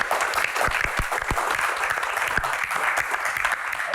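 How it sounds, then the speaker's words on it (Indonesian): A studio audience at an Indonesian Q&A show applauds a guest, Pak Bolot, with brisk, sustained clapping and a few sharper individual claps standing out near the front. "Tepuk tangan dong buat Pak Bolot."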